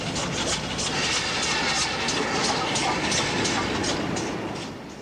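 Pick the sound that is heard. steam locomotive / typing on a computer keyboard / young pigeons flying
steam locomotive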